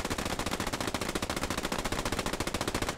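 Rapid, sustained machine gun fire from an MG in the Post Scriptum WWII shooter game, a dense, evenly spaced burst of shots lasting the whole stretch, close and loud with no talk over it.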